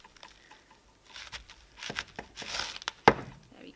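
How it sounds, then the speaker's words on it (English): A sharp knife cuts through red cabbage in a few crisp, crunchy slices heard up close, ending with one firm, louder cut. "we're just going to cut a bit of our red cabbage."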